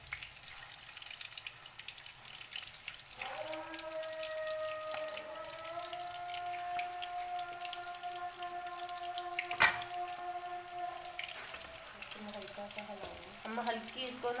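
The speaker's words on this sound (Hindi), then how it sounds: "अब मैं ऑयल में कोफ्ते डाल रही हूँ फ्राई करने के लिए।" Koftas sizzling in hot oil in a pan on low heat, a steady crackling fry throughout with a faint clink near the end. A sustained tonal hum runs through the middle, and no one speaks.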